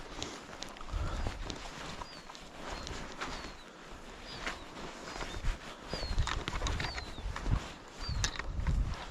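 Footsteps squelching through swampy, waterlogged ground on an alternative route around Darden Lough, a steady uneven tread with wet sucking thumps close by and faint birdsong in the background.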